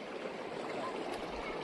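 A clear, cold freshwater spring flows in a steady, close rush, a continuous broadband hiss of moving water with no talking over it.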